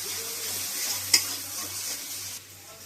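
Garlic paste fries in hot oil with a steady close sizzle and a light stirring scrape, plus one sharp metallic clink of a utensil midway, and no talk.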